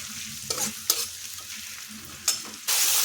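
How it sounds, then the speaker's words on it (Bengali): Grated onion frying with garlic in a pan, a steady sizzle punctuated by a few distinct scraping stirs, then the frying surges louder and brighter near the end, with no voices. "পেঁয়াজটা এখন লাল করে ভেজে নেব।"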